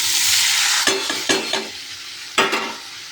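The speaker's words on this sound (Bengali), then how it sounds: "তারপর সমস্তটাকে ভেজে দেবো।" Mixed vegetables for pach tarakari frying in a pan, a steady close hiss of oil with several sharp scrapes and clacks of a spatula stirring through them, no voices.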